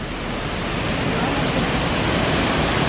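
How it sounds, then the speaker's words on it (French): A small waterfall in Bali, heard close as a constant broadband rush of falling water, loud and unbroken, with no voices. "c'est la petite cascade"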